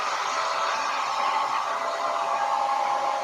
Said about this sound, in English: I'm just gonna blast this dry. So there we go. My trusty old hairdryer.